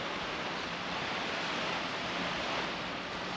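Ocean waves by a campsite at Nelson Bay or Port Macquarie in Australia, a dense steady roar of surf with a broad hiss, continuous and fairly loud, with no voices.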